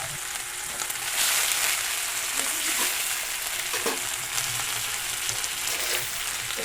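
Pork frying in a hot pan with a steady, close sizzle and crackle, joined by a few clinks of stirring, no voices.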